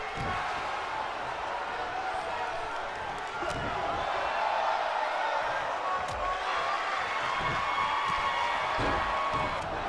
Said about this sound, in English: Crowd being displeased with some of these exchanges.